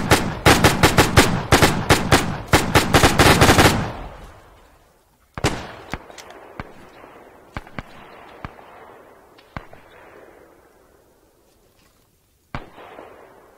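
ArmA 3 gunfire: a loud, rapid automatic burst of close shots for a few seconds, then scattered single distant cracks and thumps echoing across open terrain.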